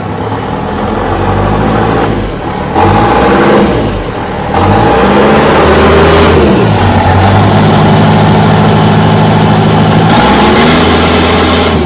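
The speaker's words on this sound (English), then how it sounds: "Alright, first startup. After it's been fully deleted, this is straight off the turbo." New Holland C245 skid steer diesel engine with DPF, DEF and EGR deleted, running straight off the turbo with no exhaust fitted: it cranks and catches, settles into a loud, throaty idle, then revs up and holds a raw, droning rumble.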